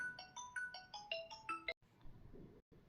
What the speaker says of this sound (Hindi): थोड़ा ऑफिस के फ़ोन की घंटी बज गई थी।